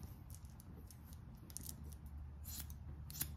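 Hanzo hairdressing shears make quiet repeated snips during a soft cut, faint crisp clicks scattered over a low steady background hum.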